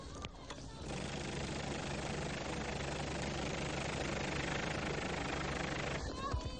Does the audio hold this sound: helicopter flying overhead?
yes